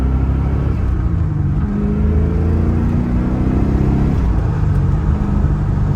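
A 1993 Corvette Callaway Supernatural 450 engine drones loudly and continuously from inside the cabin, its pitch rising and stepping as it revs up through the gears.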